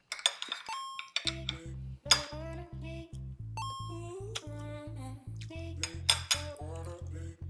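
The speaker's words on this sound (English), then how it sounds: "spoon and fork." A metal spoon and fork clink and scrape against a plate of pork adobo and rice in repeated quick taps, close and clear over steady background music.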